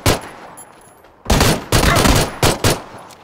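Video game gunfire: a brief shot, a pause, then several loud close bursts of rapid shooting in quick succession, with no voices over them.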